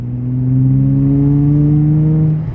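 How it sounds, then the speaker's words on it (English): Infiniti G35 fitted with an ultra quiet resonator revs up, its exhaust note climbing steadily and holding high with a faint rasp before dropping off, loud and close with no talking. "you can tell a faint little bit of rasp when you get into the high RPMs"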